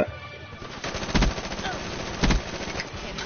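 Gunfire in the video game Black Ops 3: a steady rattle of automatic shots with two louder, punchy bursts standing out, mixed into busy game sound.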